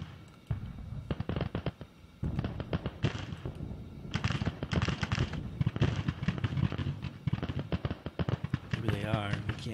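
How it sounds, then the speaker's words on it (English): Scattered musket volleys and crackling rifle fire from Civil War soldiers in the strategy game Grand Tactician: The Civil War, popping in irregular bursts under someone talking over the battle. "These guys are shooting."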